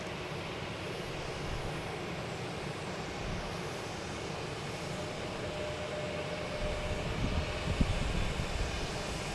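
A jet airliner rumbles at Logan Airport, a broad steady roar from a distance that swells and grows louder toward the end, with no talking.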